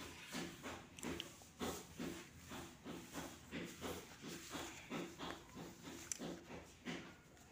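Drumstick and moong dal curry boils in a pot, a soft, faint, rhythmic bubbling hiss that pulses steadily throughout with no voices.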